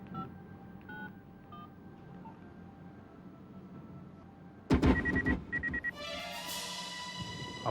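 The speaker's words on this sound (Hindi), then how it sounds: "एमटीएनएल से जो नंबर मिला है वो लगा।" Telephone keypad dialing of a number in a police drama, sounding as a quick run of bright DTMF beeps over background hum, followed by a louder burst of ringing tones and a sustained tone toward the end.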